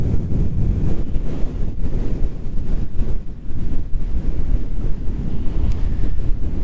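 Strong wind around 30 knots, gusting to 35, roars continuously across the microphone on a boat at anchor, loud and buffeting with brief dips between gusts and a wash of water underneath.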